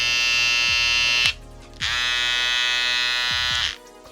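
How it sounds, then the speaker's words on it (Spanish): A Kemei 1807 hair clipper fitted with a PopMaster blade buzzes close and loud in two bursts of high, steady electric whine, separated by a short low pause and fading out at the end. "Este es el 1807, este es las cuchillas PopMaster en el 1855 de Kemei o de BGR."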